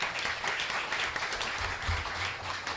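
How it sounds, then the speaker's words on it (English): An audience claps steadily throughout, a continuous patter of many hands with faint low rumbles underneath. "If we could give them a round of applause."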